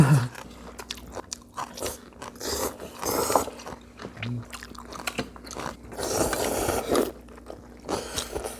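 Someone eats spicy Korean mixed noodles with spring cabbage up close, with repeated crunchy bites and wet chewing in irregular bursts, loud and near, and no talk.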